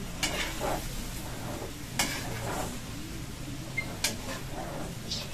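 Vegetables stirred into pork menudo in a cooking pot, with soft scraping strokes repeating every second or two and a light sizzle running steadily underneath, close and fairly quiet.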